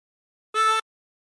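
A single short drawn note on hole 10 of a 16-hole tremolo harmonica, bright and reedy with a slight wavering shimmer. It lasts about a quarter second and is isolated against silence.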